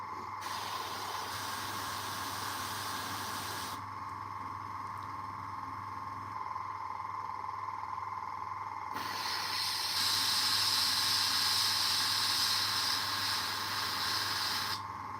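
An airbrush sprays paint onto a Warhammer miniature with a steady close hiss that cuts out briefly, then resumes stronger over a constant low hum.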